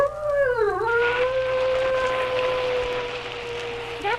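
A single long, mournful dog or wolf howl used as a sound effect in a Halloween ghost story, rising then sliding down before holding a steady, loud wavering tone for several seconds, heard alone and close.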